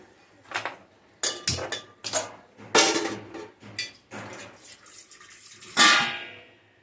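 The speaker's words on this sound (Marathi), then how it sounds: "आता इकडं पाणी उकळत ठेवणार आहे मी." A pot is filled with water and set on to boil in a home kitchen: a series of loud metallic clanks and knocks of pots and lids, with splashing and pouring water between them, close and uneven.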